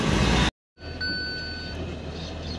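A truck on a road construction site sounds steady reversing beeps, two tones pulsing over engine rumble after a loud burst of noise and a brief cut to silence.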